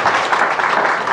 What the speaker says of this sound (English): Boy, you're all so nice to clap before I even started.